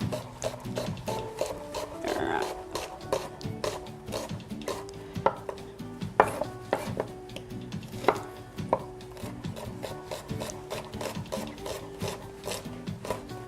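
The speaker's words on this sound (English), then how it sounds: "I'm going to chop up about 3 shallots." A kitchen knife finely chopping shallots on a cutting board, with a steady stream of quick, close, crisp taps and scraping, occasional louder knocks, and no talking.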